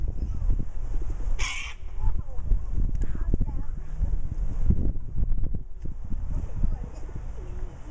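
Cockatoos and other birds crowd around a young girl in a park, giving harsh squawks and calls over steady wind noise at the microphone, while people talk nearby.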